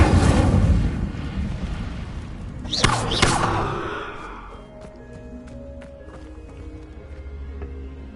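An Incendio fire spell cast in Hogwarts Legacy on PS5, a loud whooshing burst of flame with a sharp crackling flare near the middle, then a lingering rumble and softer ambient game sounds trailing off.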